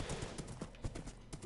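Horse hooves galloping in Minecraft, a quick, uneven clatter of hoofbeats running continuously under a bright hiss of background noise, with no talking.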